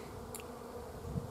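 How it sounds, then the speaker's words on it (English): Faint, low buzzing of bees around a beehive being prepared for winter, a soft continuous hum over a short stretch, with one brief higher insect flick near the start. "There should be plenty of bees coming and going out of here."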